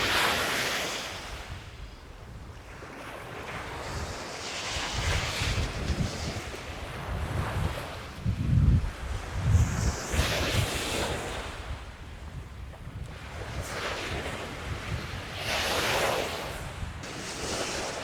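Waves lap rhythmically against a large lake shore in washes that swell and recede, with gusty wind buffeting close by and no voices.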